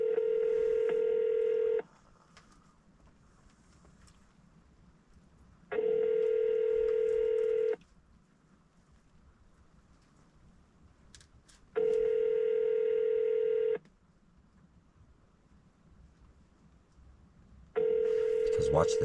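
Telephone tones sound while a call is transferred to voicemail: a steady pure beep repeats four times in long even bursts of about two seconds, separated by quieter gaps with faint line noise.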